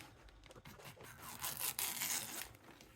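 A rasping, scraping rub builds and stretches out, close and steady, as scissors are drawn firmly along a strip of ribbon to curl it, with no talking.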